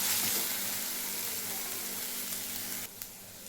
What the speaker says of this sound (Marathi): आता आपल्याला हा मसाला आहे तो ब्राऊन होऊ द्यायचा तेल फुटेपर्यंत ह्याचं